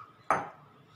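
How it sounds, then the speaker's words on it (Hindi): Soaked black chickpeas tip into a metal pressure cooker in a home kitchen, making a single sharp clatter and rattle against the pot that quickly fades, close and fairly loud against a quiet room. "इसको डाल देते हैं कुकर में।"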